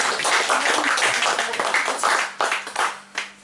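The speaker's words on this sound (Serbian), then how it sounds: "A može jedan snažan aplauz za Vesnu" An audience in a library hall claps for Vesna, a dense burst of applause from many hands that thins out into scattered, separate claps toward the end.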